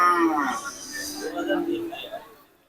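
A cow gives a long, drawn-out moo close by, with other voices and market noise around it at the Kalampur cattle market.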